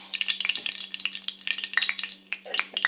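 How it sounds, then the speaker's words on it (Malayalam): Mustard seeds crackle and pop in hot oil in a pan on the stove, a dense run of sharp little snaps close by, with no talking. "കടുകൊക്കെ പൊട്ടി വന്നിട്ടുണ്ട്."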